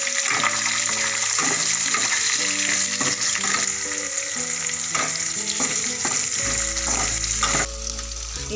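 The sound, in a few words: chopped onion frying with dry chillies and bay leaf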